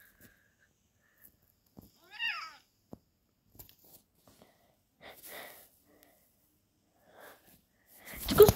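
A house cat meows once in a short, moderately loud rising call amid an otherwise quiet indoor room, with a few faint knocks and rustles before and after.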